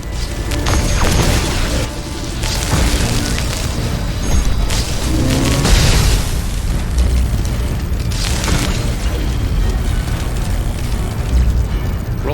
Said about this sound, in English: Roller ball of death.